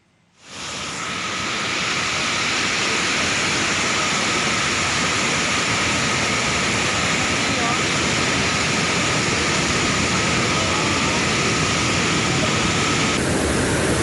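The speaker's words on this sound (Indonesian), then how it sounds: "Banjir bandang menerjang Kota Batu, Jawa Timur saat wilayah ini diguyur hujan deras." Flash floodwater surges through Batu in East Java after heavy rain, a continuous loud, dense roar of rushing water with no let-up, heard close and alone for the whole stretch.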